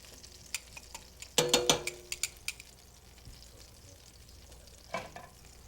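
Browned pork shoulder being moved into a braiser, with a soft sizzle under sharp clinks and scrapes of a utensil against the pan, a cluster of knocks in the middle and another near the end.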